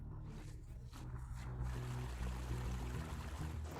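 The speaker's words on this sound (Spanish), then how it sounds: "Cuando el agua sale directamente de la mina hacia el arroyo, es muy ácida." Untreated, acidic mine water flows straight out of a mine into a stream, making a steady close rush of pouring water with no break.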